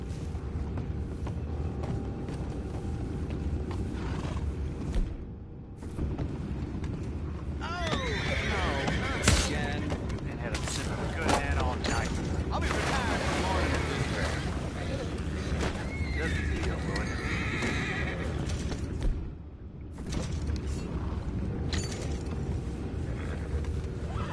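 Horses whinny and snort in a PS4 video game, with creaking wagon sounds and hoof clatter, while voices talk over the scene throughout.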